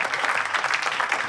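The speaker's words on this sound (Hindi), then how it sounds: "दोस्तों तालियां नहीं रोकनी चाहिए भाई" Brief burst of dense audience applause at a live comedy and poetry show, a steady wash of many hands clapping, loud and continuous.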